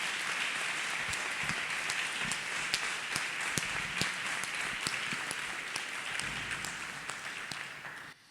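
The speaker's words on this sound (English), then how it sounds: "Let us clap hands for Master Jesus." A church congregation claps hands during a testimony service, producing a continuous patter of applause with distinct individual claps standing out, fairly distant and soft, before stopping abruptly at the end.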